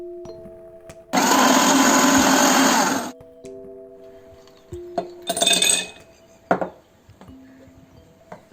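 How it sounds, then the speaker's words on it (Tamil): A kitchen blender whirs loudly for about two seconds while blending mango lassi, then short clinks and a brief second pulse follow, with low background hum and no talking. "இப்போ அதையும் நம்ம வந்து நல்லா பிளெண்ட் பண்ணிக்கலாம்."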